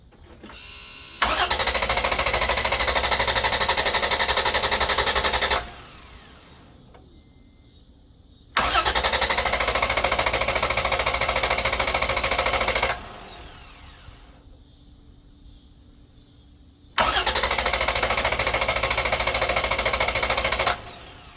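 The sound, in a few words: Jeep engine cranking with Vantrue JS3 jump starter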